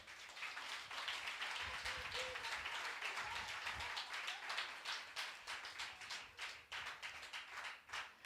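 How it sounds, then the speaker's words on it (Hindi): A church congregation claps loudly and continuously during a Hindi sermon, a dense, sustained wash of many hands with no talk over it. "जोर से ताली मारिए।"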